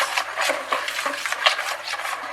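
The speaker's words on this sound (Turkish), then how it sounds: "şimdi biraz da böyle karıştırma kabımızı karıştıralım hatta" Paint being stirred in a mixing container gives quick, rhythmic swishing strokes, close and fairly steady, for repainting a dark cabinet white.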